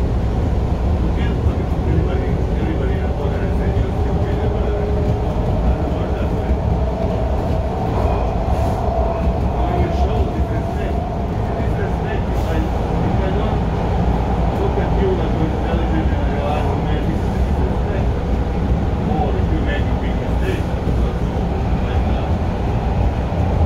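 A Toronto subway train rides Line 2 between Kennedy and Kipling, with a continuous low rumble and rattle of wheels on track and a steady roar of the car, plus faint announcements in the background.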